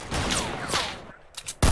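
Gunfire in the Fortnite Battle Royale video game comes as a rapid volley of shots, followed by a quieter lull and then a sharp loud burst at the end.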